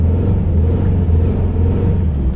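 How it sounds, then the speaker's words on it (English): A V8 LS engine swapped into a BMW E36 runs rough, as if firing on only one cylinder, making a loud, steady low rumble that holds close and continuous throughout, with no talk. "It's running on like one cylinder."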